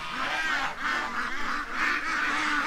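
Ducks among bulrushes by running water at a creek, calling in a loud, continuous chorus of nasal honking quacks close by, with no talk.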